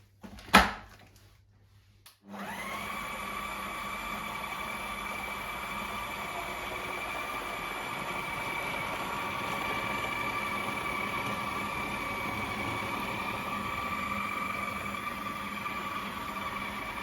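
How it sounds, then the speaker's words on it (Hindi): An electric kitchen mixer grinds minced meat with almond powder and dry spices: after a brief click and pause, a loud, steady motor whine starts and runs continuously without a break. "सबसे पहले हम डालेंगे कीमा मिक्सर में।"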